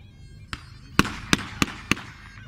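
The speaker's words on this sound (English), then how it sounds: "Germans using a mortar there by the looks of it." Mortar fire at a 1940s battle reenactment: four or five sharp, distant bangs in quick irregular succession over a low outdoor background.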